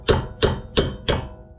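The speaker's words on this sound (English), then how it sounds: "See this hammer." Four sharp, evenly spaced hammer blows striking to break loose nuts on a Honda CR-V strut, each a close, loud metallic clank with a short ringing decay, alone with no speech.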